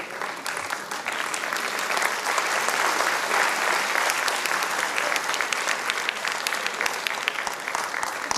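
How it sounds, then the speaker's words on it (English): An audience at the SOA Sahitya Samman 2025 award ceremony for Javed Akhtar at a literary festival claps in sustained, dense applause, a loud wash of many hands that holds steady for several seconds. "The applause should keep coming."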